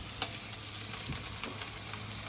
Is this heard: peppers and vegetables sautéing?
yes